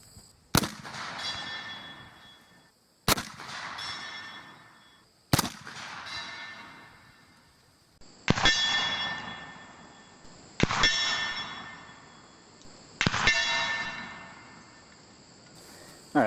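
An 1863 Sharps carbine fires six shots at a steel plate target about 100 out, each a sharp crack followed by a ringing metallic clang that decays over a couple of seconds, spaced roughly two to three seconds apart.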